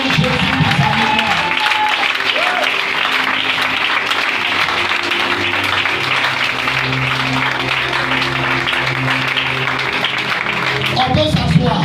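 A church congregation at a memorial service applauds and cheers together, sustained loud clapping filling the room for the whole stretch with voices mixed in.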